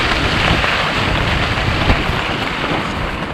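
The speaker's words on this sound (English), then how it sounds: "we endured heavy rainfall and winds upwards of 80 kilometers an hour" Heavy rain and gusting wind of up to 80 km/h batter a tent in a dense, continuous roar, loud and close, with the rush swelling and easing slightly and no voices.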